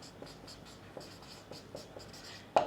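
Marker or chalk writing on a classroom board during a chemistry lesson on sulphuric acid, heard as soft repeated scratchy strokes with a louder tap at the end, no speech over it.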